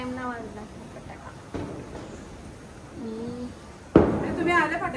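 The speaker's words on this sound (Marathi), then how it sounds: "मेन टाइम ना वाजला फटाका." During a rainy Lakshmi Puja night, a firecracker bursts with one sharp, loud bang near the end, after a softer thump earlier, while people talk nearby throughout.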